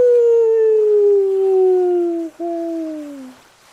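A person imitates a wolf with a loud, sustained falling howl, breaking briefly near the end before a second descending wail that fades out, no other sounds around it.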